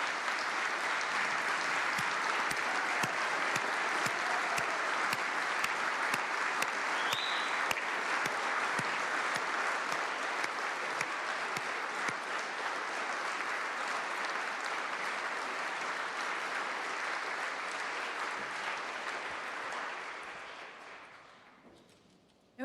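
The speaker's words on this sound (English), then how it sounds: "Please give these educators and educators all across Kansas a huge round of grateful applause." A large audience at the Kansas Governor's State of the State address gives sustained, dense applause honoring educators, steady and full for about twenty seconds before tapering off at the end.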